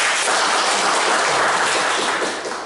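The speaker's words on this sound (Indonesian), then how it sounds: "tepuk tangan" Classroom applause during a microteaching lesson at Universitas Nusa Cendana: dense, steady clapping from a group of students, filling the space evenly and tapering off slightly at the end.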